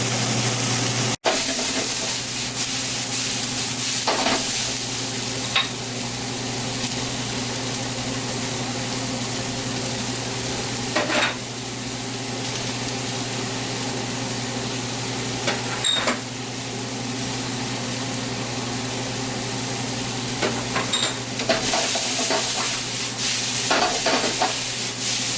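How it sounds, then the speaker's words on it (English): Peppers and onions sautéing in a pan, a steady close sizzle and hiss running throughout with occasional stirring scrapes and clinks, no voices. "Now that the onions are getting lightly brown, I'm going to add the peppers to it. I'm going to saute the peppers for"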